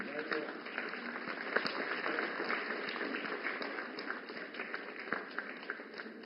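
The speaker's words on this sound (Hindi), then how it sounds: "जोरदार तालियों से स्वागत करें हमारी नमो ड्रोन दीदी का" Applause for a Namo Drone Didi receiving a drone from the Prime Minister at a Sashakt Nari Viksit Bharat event in New Delhi, steady and fairly dense with scattered sharp claps, carried at moderate level under a faint murmur.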